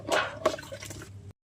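Short watery squishes and drips as cut Arr/Tengra fish pieces are washed in water, brief and close, ending abruptly.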